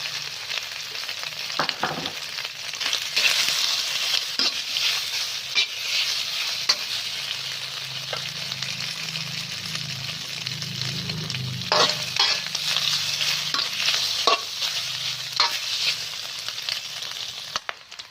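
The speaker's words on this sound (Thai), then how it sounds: "เอาหมูเป็นชิ้นเนี่ยเนาะ มันหมูเนาะเจ้า ลงไป เคี่ยวก่อนนะเจ้า" Pork pieces and pork fat fry in a wok, a bright crackling sizzle punctuated by frequent stirring clicks and scrapes of a spatula, loud and close throughout with no voices.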